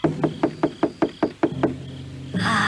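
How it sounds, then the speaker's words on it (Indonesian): Knocking on a house door at night: seven evenly spaced, firm knocks ring out close and clear, then give way to a steady hiss. "Pintu itu diketuk lagi."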